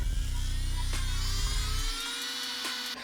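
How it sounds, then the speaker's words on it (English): A mains-powered electric drill runs steadily with a high whine and a low motor hum, loud and close; the low rumble drops away near the end while the high-pitched spinning continues alone. "I'm going to carry on with my mains powered drill."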